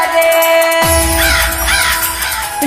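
Crow caws ring out inside a new Maithili song, harsh repeated calls laid over the music's sustained tones and a deep swooping effect.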